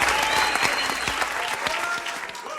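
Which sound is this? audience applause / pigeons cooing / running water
audience applause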